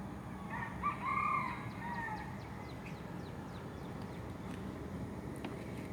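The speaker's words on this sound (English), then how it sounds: "Chicken call, y'all." A rooster crows once, moderately distant and fairly faint, its short call rising above a steady outdoor hiss and low rumble, no talking.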